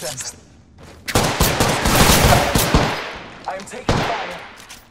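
Sustained automatic gunfire in Apex Legends, a dense, loud fusillade lasting a few seconds, followed by a sharper burst of shots, with game sounds around it.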